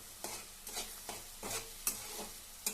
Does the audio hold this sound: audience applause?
no